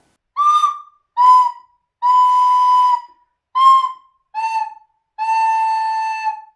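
Six separate recorder notes, each a clean whistle-like tone starting softly without a tongued attack, some short and some held about a second, with gaps of silence between them and no voices.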